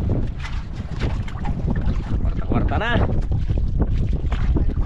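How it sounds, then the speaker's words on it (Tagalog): Strong northeast monsoon wind buffets a small fishing boat at sea, a steady loud rush filling the whole clip while people talk over it. "Kakas na lalo yung amihan. Hangin yun. Grabe yung hangin na to."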